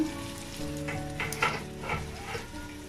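Snakehead fish pieces sauté in a covered pan over medium heat, giving a close, bubbling sizzle with stirring scrapes and a faint steady hum underneath.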